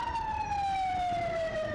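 A single loud siren wails on one long falling tone, with traffic rumbling underneath, after a bombing in Afghanistan.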